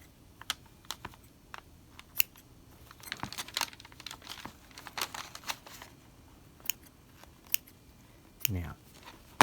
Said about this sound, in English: Pry the fabric apart and cut down the center.